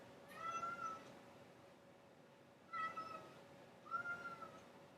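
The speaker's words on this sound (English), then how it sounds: "And my cat will not shut up." A house cat meows three times in short drawn-out calls spaced a couple of seconds apart, fairly close and clear over a quiet room hum.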